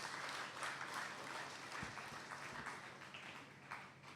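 An audience at a school debate event applauds as a secondary school debate team leaves the stage, a sustained crowd clapping that stays fairly quiet and fades slightly toward the end.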